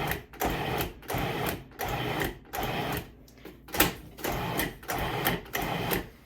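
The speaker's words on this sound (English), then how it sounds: "I'm going to just pour that bravely into the dough and start pulsing it some more." A food processor pulses pie dough for a rhubarb custard pie in repeated short bursts, about nine even whirring pulses with brief gaps between them, close and fairly loud with no talking.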